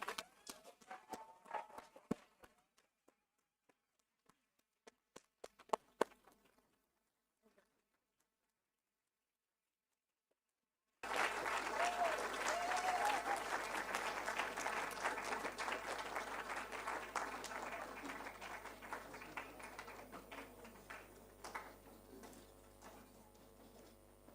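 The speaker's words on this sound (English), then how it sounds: "Please help me in a resounding round of applause for our distinguished author" Faint scattered claps and small sounds taper into near silence, then a full room bursts into loud sustained applause for the author at a book launch, continuing to the end.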